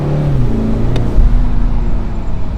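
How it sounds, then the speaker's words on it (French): BMW 4 Series Convertible engine, heard from inside the car in Miami, a loud, close low rumble that swells briefly into a rev before settling back to a steady drone. "on écoute le moteur s'il vous plaît"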